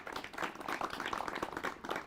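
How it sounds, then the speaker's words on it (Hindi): An audience at a farmers' question forum in New Delhi gives the experts a round of applause: dense, steady clapping from many hands, fairly close, running for about two seconds without a break. "तो जोरदार तालियां बजाइए विशेषज्ञों के लिए।"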